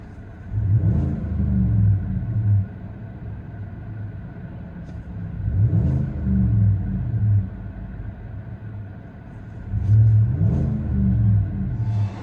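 Inside the cab of a GMC Sierra V8 fitted with a Flowmaster exhaust, a low muffled rumble rising in three rev swells over a steady idle, no talking.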